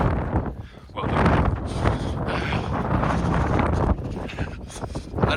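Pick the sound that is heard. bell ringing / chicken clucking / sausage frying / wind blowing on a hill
wind blowing on a hill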